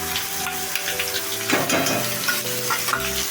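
Hing, fresh curry leaves and garlic chutney sizzle in hot oil for Kathiyawadi khati kadi nu shak, a steady close hiss that swells briefly as the ingredients hit the pan.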